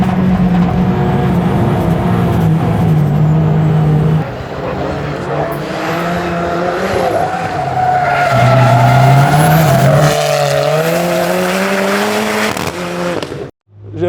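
A rallycross car driven hard on track, engine roaring loud and close with rising and falling revs as it accelerates, tires skidding and sliding through corners, before cutting off abruptly near the end.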